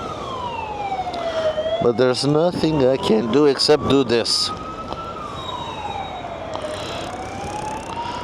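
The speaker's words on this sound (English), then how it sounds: "Yep, the ambulance is behind us" An ambulance siren wails and sweeps up and down behind a rider on a snowy road, steady and fairly near, while someone talks over it for a few seconds.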